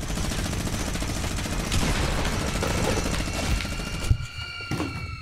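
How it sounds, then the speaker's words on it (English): Dense, overlapping gunfire in Fortnite, a rapid clatter of shots that runs loud and continuous, then thins to a few scattered reports near the end. "I just got shot through a wall."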